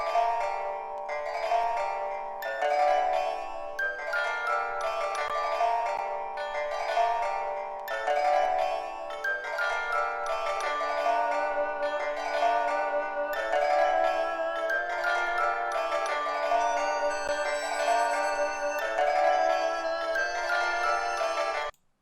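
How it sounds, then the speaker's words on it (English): An exotic, Asian-flavored music sample at a brisk 176 BPM plays on its own, with plucked strings, bell tones and flute in steady repeating melodic phrases that stop abruptly at the end. "It's this exotic sample. It's Asian flavor, at 176 BPM."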